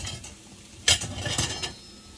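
Finely diced onions and green peppers cooking in a pan on medium heat, heard as quiet frying with a couple of short bursts of stirring and scraping, no talking.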